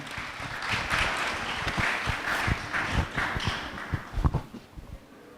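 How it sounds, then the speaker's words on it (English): An audience applauds panel guests at a horse consignors and breeders association event, a steady mid-level clapping with distinct individual claps near the listener for several seconds. "a round of applause for Steve Asmussen, Kenny McPeak, Boopad Seymour, and Cherie DeVoe"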